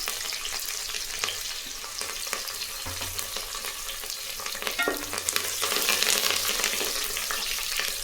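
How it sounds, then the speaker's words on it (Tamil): Garlic, curry leaves and dried red chillies sauté in hot oil, a constant crackling sizzle nearby punctuated by intermittent spoon scrapes and stirring, growing slightly louder toward the end, with no voices. "கறியாப்பிலை பூண்டு மிளகா வதங்கும் போது நல்ல ஒரு வாசனைங்க"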